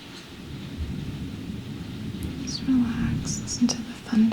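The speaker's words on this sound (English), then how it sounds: "Relax, listen to the thunder." Low, steady rumble of distant thunder rolling through the whole stretch, with faint high chirps near the end.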